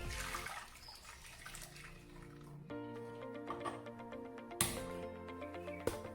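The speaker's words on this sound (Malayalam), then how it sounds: "ഇനി നമ്മൾ പുഡിംഗ് ഉണ്ടാക്കുന്ന പാത്രത്തിലേക്ക് ഒഴിക്കാം." Blended watermelon juice, made without added water, pours steadily into a pudding pan, a continuous liquid splash lasting several seconds with a couple of sharper spikes.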